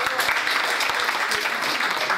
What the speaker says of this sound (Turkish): Onlara alkışlıyoruz.